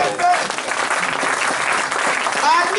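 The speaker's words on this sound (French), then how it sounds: "donnons une acclamation au Seigneur" Inside a church, the congregation gives a loud burst of clapping and acclamation for the Lord, steady and dense throughout, with voices mixed into the clapping.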